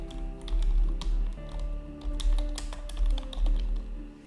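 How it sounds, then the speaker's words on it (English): Computer keyboard being typed on while text is entered into a PowerPoint slide, with soft, irregular key taps over a steady low background hum. "Click in the text box and type"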